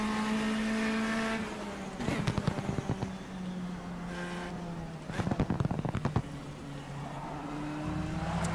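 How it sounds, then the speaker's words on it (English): A race car in rFactor 2 drones along with a steady engine tone, broken twice by bursts of crackling, scrabbling tire noise as the car briefly loses traction, then settles back into the engine hum. "You can hear that slight loss of traction there."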